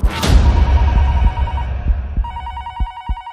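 A telephone rings loudly and close in a dramatic film scene, repeated bell-like electronic trills pulsing in a steady pattern, with a few low thuds underneath and no talk.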